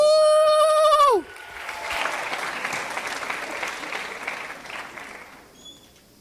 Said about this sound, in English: I like the round of applause you all are giving